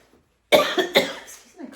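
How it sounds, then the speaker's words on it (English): Two sharp coughs in quick succession, close and loud, followed by a softer trailing breath. "So I've just been trying to get rid of this cough."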